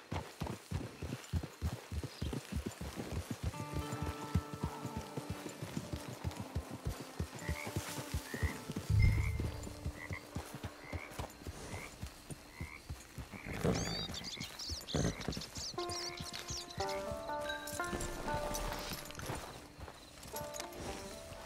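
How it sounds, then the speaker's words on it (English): Horse hooves clip-clop steadily on the ground in Red Dead Redemption Online, a regular rhythm heard over game music and ambience, slowing as the rider approaches a camp. "Hitch your horse."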